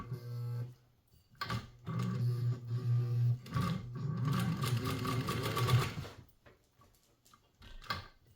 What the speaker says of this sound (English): This is the one that they call the best home sewing machine ever made.